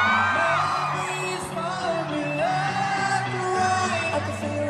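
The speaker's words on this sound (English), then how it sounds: "y'all screaming it very loudly with me" Concert crowd at a live pop show in Hong Kong screaming and singing along loudly with the performer, a dense wall of voices with whoops and yells over sustained music.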